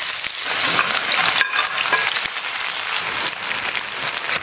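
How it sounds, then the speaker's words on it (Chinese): Di san xian, a potato, eggplant and pepper dish, is stir-fried with seasonings in a wok, giving a loud, crackling sizzle with scraping stir noises throughout. "全部准备好了，开始炒。"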